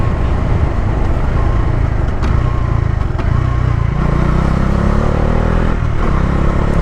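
Bajaj Dominar 400 motorcycle on the move, a loud, steady low engine rumble mixed with road and wind noise, its pitch shifting slightly as the ride goes on.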